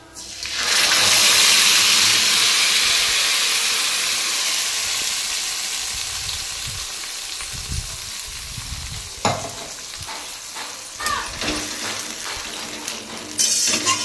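A paste of ginger, green chili and tomato hits hot oil in a pan, flaring into a loud broad sizzle that gradually settles into steady frying, with stirring and scraping clatters toward the end and no talking.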